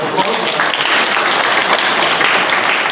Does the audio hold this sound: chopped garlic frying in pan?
no